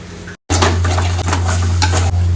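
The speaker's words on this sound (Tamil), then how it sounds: "எண்ணெய்க்குள்ள பச்சை மிளகா, வெங்காயம், கருவேப்பிலை, வரமிளகா, கடுகு, அப்புறம் இஞ்சி." Green chilli, onion, curry leaves, dried red chilli, mustard seeds and ginger frying in hot oil for ginger-tamarind chutney, a loud steady sizzle with clinks of a spoon stirring against the pan after a brief gap.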